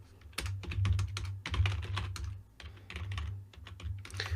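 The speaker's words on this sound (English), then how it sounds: "I just like typing stuff." Typing on a computer keyboard, with rapid, irregular bursts of close keystrokes and brief pauses between them, over a low steady hum, with no voices.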